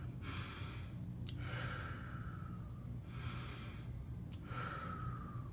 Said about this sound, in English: You gotta breathe in and breathe out